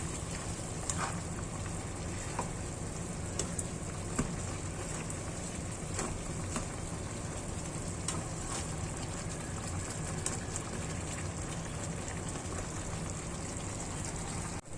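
Chicken adobo with a spoonful of brown sugar cooks in a pan, giving a steady, close sizzle and bubbling hiss throughout, with faint scraping from stirring now and then.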